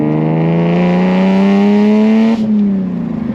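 A straight-piped BMW 328i E36 exhaust revs loud and raspy, its note climbing steadily for about two seconds before it cuts off and falls away, heard close and alone.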